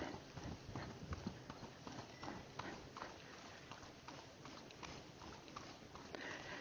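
A Missouri Fox Trotter horse moving at a fox trot, its hoofbeats a steady, faint, even rhythm against a muffled background.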